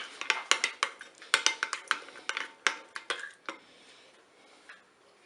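Utensil scraping and clinking against a bowl while green bean salad is tossed with chopped onion and basil, a quick series of sharp clacks that thins out and fades near the end.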